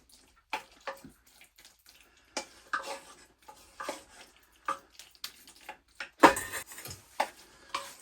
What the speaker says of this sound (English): I'll give this a good stir in here